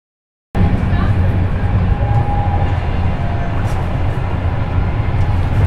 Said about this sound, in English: doors open, close, and one train passed by.